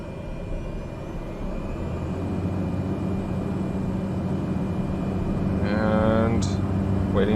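A Cessna Caravan turboprop engine in Microsoft Flight Simulator 2020 is spooled up for takeoff with brakes held. The steady drone builds gradually in loudness, and a brief rising whine appears near the end.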